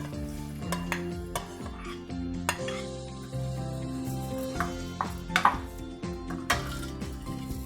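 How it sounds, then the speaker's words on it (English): Rice being stirred in hot oil in a pan to toast it: scraping and clinking of a utensil against the pan over a steady low sizzle, with irregular sharper knocks throughout. "I'm gonna add the rice into the pan now and stir that around so that it gets nice and coated in that oil"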